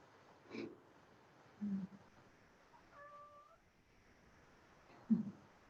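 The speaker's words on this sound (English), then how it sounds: "Did you hear the one meow?" A cat meows faintly, two or three short soft calls spread apart in a quiet room, with a faint tone heard briefly midway.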